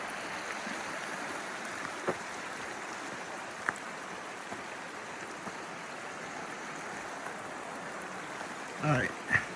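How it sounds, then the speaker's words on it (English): Stream flowing beside a wet, rainy trail along Brown Mountain Creek: a soft continuous rush of water, faint and even, with a few brief knocks and a short burst of voice near the end. "the stream goes along the path, and it's wet and rainy, but the stream being there is nice"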